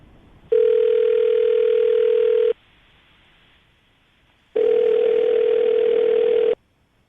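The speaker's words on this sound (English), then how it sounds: "We're going to call him right now, see if we can get him on the phone" Ringback tone on a telephone line as a call is placed to a radio-show guest: two steady electronic rings, each about two seconds long, separated by a two-second silence, clear and alone.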